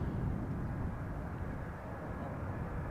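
An Embraer 190 airliner from Brussels arriving at Schiphol Airport, heard as a steady, faint, broad engine rumble at a distance.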